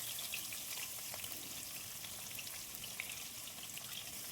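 Fish sizzling in hot oil in a wok, a steady, quiet frying hiss that carries on evenly throughout with small crackles and no voices.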